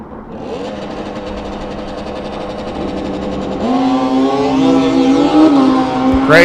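A Kawasaki drag racing bike roars down the track at a drag race, a loud buzzing engine note climbing in pitch as it accelerates away, steady and close throughout.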